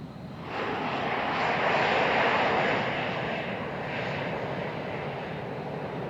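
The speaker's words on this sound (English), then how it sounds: "That was an American Airbus A321." An American Airlines Airbus A321 airliner in the MSFS 2020 flight simulator passes by at Phoenix Sky Harbor, a loud broad jet roar that swells after a half-second, peaks around two seconds, then eases while staying steady to the end.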